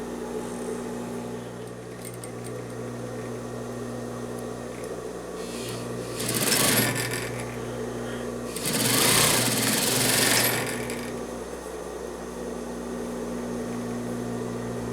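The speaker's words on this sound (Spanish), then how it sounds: "Ahorita lo vamos a coser." A sewing machine stitches the shoulder seams of a French-cut dress in two loud, whirring runs, each lasting a second or two, over a steady background hum.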